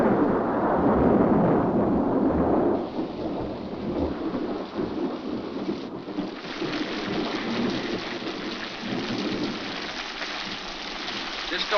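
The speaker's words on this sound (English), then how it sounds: "This storm will clear up for an hour" A heavy storm pours steady rain over rolling rumbles of thunder, the downpour loud and close at first and then easing to a softer, continuous patter.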